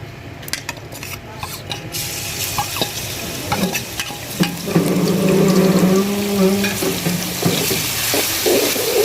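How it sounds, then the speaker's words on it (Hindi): Oil sizzles and crackles steadily in a pan with occasional clinks of a utensil; the frying grows louder and busier partway through. "ऑयल हमारा गर्म हो चुका है, अब मैं इसमें अदरक और लहसुन डालूंगी।"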